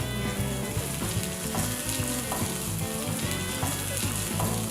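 Ginger, green chilies and onions sizzle loudly in a pot of oil with bay leaves for a one-pot brown rice meal, a dense, constant crackling hiss with soft stirring scrapes and no talking.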